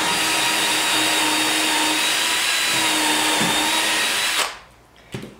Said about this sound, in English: We're gonna go in the center of our front panel and drill with our 3/16 drill bit